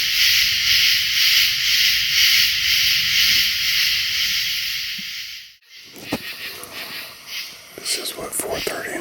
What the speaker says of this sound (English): This is the sound of the tree frogs or crickets